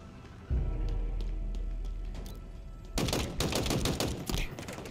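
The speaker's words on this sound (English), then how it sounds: "Why don't we just shoot at each other from a long ways away?" Gunfire exchange in the video game Halo Infinite: a loud, dense burst of rapid shots erupts midway, following a low rumbling boom and scattered distant pops, continuing in heavy clattering volleys to the end.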